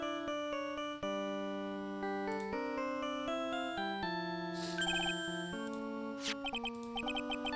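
A phone rings in the Ace Attorney video game as a melodic electronic ringtone: steady stepped chiming notes that rise and fall over several seconds, bright and continuous, with no voices.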